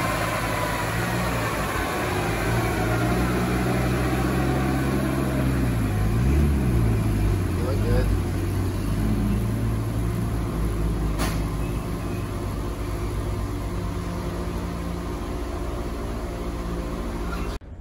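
A 2005 Volvo S60 T5 with a Stage 1 Hilton tune runs on a dyno indoors at a shop, a loud continuous engine drone with a slight rise and dip in pitch, steady throughout without talk.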